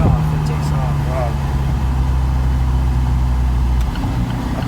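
A 2015 Alfa Romeo 4C sports coupe engine pulls hard, a steady low droning note held close and loud, with people talking over it.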